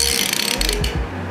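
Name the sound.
Craftsman 72 tooth ratchet clicking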